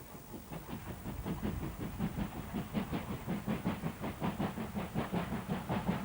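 GWR Castle-class steam locomotive 5029 Nunney Castle works along the Severn Valley Railway, its rhythmic chuffing exhaust beats steady and fairly quick over a continuous hiss, moderately distant.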